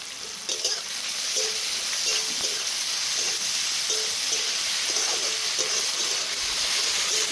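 Onion and tomato for a green pea kachori filling fry in a pan with a steady, close, even sizzle and occasional soft stirring sounds, with no talking.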